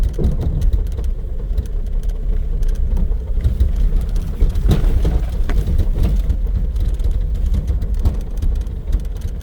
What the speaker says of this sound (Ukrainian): Проїдемось трошки далі. Їдемо до рибного місця.